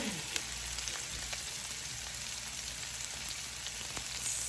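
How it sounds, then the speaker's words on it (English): Salmon fries in a hot pan, giving a faint, even sizzle of crackling spatter with occasional sharper pops, steady throughout and with no talking. "So that sizzle looks really good."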